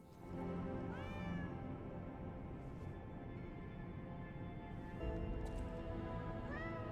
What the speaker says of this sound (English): Yep, this is a cat.